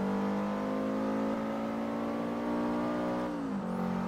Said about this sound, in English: That car literally blew out my eardrums.